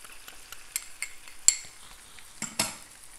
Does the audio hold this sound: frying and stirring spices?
yes